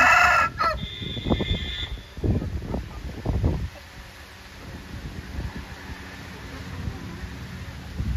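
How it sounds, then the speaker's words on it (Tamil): A fighting rooster crows once at the start, loud and close, followed by a few dull thumps and then a quiet outdoor hush. "இது எல்லாமே சண்டை கோழியாக்கா?"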